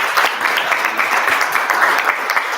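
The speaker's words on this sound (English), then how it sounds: "Can we give her a round of applause?" Steady, full applause from a seated audience at a discussion event, many hands clapping close and loud throughout with no voices breaking through.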